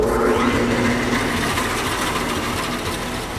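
Lyco mini-snipper commercial green bean machine running steadily, a loud continuous mechanical whir and rattle with a constant hum throughout, no talk over it.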